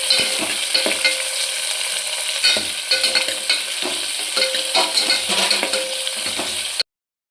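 Garlic and curry leaves fry in a pan for egg sambar, giving a loud continuous sizzle broken by repeated stirring scrapes and soft utensil clinks.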